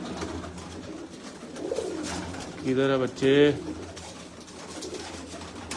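Pigeons cooing near handlers in a pigeon loft in Jinnah Garden, Islamabad, two clear rolling coos in the middle, with someone speaking briefly over soft background noise.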